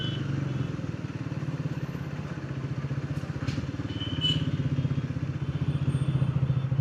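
A Triumph Thruxton 400 motorcycle runs steadily while being ridden, a close, continuous engine drone with a rapid pulsing rumble that swells slightly toward the end, with no voices over it.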